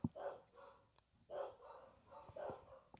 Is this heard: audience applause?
no